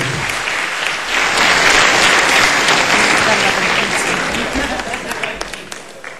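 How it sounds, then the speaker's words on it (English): Warm applause from an audience greeting a birthday guest at a gathering, dense close clapping that swells after a second, holds steadily, then thins toward the end with a few scattered claps. "Please give him a round warm of applause"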